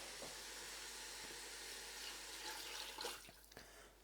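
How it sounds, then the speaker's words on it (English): Water pours steadily into a pot of pulled pork, a soft, continuous hiss of running liquid throughout, faint and close, with a few small knocks toward the end. "So to this, I'll add some water."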